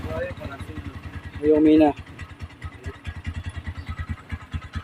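TMX 125 motorcycle engine idling with a rapid, even thumping beat, close by. A person speaks briefly over it near the start, and a short high whine cuts in about midway.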